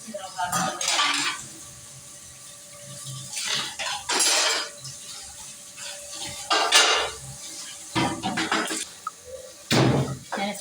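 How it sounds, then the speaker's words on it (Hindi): Rice is tipped into a pot of boiling water, giving a series of splashing, scraping clatters and metal-on-pot knocks spaced a few seconds apart over a quiet bubbling background. "इसको उबाल आ रहा है, इसके अंदर चावल डालूंगी।"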